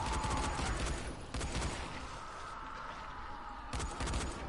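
Gunfire from the video game Dying Light comes in a few short, loud bursts of rapid shots, separated by quieter stretches with no talking.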